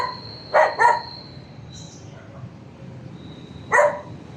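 Dogs at an old house beside water give a quick pair of nearby barks, fall quiet for a few seconds over faint background noise, then bark once more.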